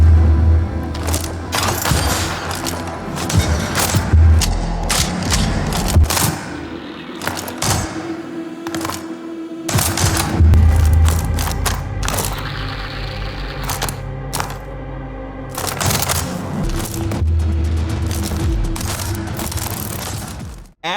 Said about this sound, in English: From the assault rifles and shotguns to the grenade launcher and SMG, these guns sound nasty and hit hard